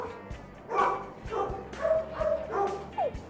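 A pet dog barks in a home during obedience training for greeting visitors, giving a few short, sharp barks and yips spaced across a few seconds, close and moderately loud.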